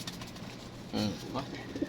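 A dilute blue Qualmond pigeon gives a short, soft coo close by, with a few faint murmurs following.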